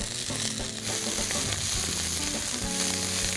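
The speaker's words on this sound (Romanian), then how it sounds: "Am să iau 4-5 fire de coriandru" A few sprigs of coriander dropped into a hot pan with toasting pumpkin seeds, giving a loud close continuous sizzle and crackle with faint stirring clicks throughout.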